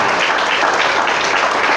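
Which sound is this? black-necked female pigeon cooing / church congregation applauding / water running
church congregation applauding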